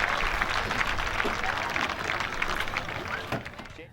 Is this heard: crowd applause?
yes